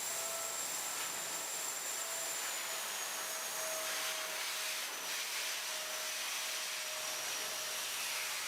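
A SuperCell dust collector hose sucks planer shavings up off a workshop floor, a steady loud whooshing roar with a faint whine, broken by rustling bursts as chips rush in. No one speaks.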